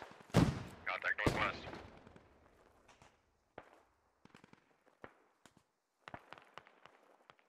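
Scattered enemy gunfire in the Squad video game, distant single shots and short bursts roughly 200 to 275 meters out, sharp cracks spread irregularly after a few loud close sounds and a voice at the start.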